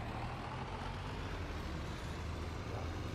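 A farm truck in Farming Simulator 19 tows a tipper wagon, its engine giving a low, steady rumble with road noise, quiet and continuous throughout.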